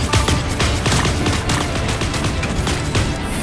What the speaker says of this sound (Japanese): 銃声よ、気を引き締めて。